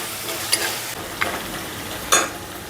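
Onions fry in a pan while being stirred, a soft steady sizzle broken by three sharp utensil scrapes and clinks against the pan.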